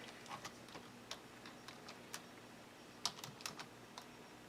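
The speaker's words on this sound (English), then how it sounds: "the text box is opened down here. And I'm going to write" Typing on a computer keyboard, a quiet, close run of irregular key clicks with a few sharper taps, no voices.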